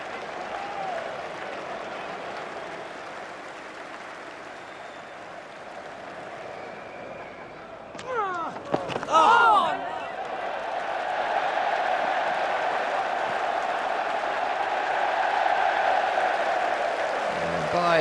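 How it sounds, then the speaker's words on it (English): Cricket crowd at the 2005 Ashes Test, England against Australia, roaring and applauding in a continuous broad wash of noise that swells louder in the second half, with a brief burst of sharper shouts in the middle. "the crowd is going absolutely berserk"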